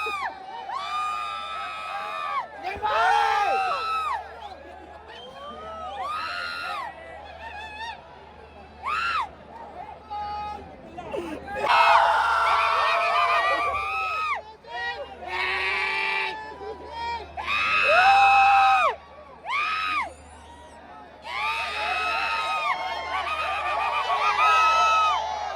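Stadium crowd at a Celebrity Cricket League match at Uppal stadium in Hyderabad, shouting and cheering in repeated loud bursts of massed voices with brief lulls between them.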